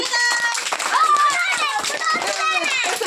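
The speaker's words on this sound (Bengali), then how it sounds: "সবাই হাততালি দাও, একবার হাততালি।" Children clapping their hands together in a group, a quick burst of claps mixed with bright overlapping kids' voices and chatter, close by and lively.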